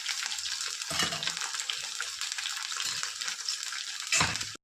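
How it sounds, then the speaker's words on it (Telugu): Peanuts and ridge gourd chutney fry in hot oil in a pan, a steady crackling sizzle with a few stirring scrapes and a louder burst near the end. "ఆయిల్ హీట్ ఎక్కిన తర్వాత పచ్చడి కూడా వేసుకోవాలి దీనిలో కొంచెం పల్లీలు వేసుకోవాలండి"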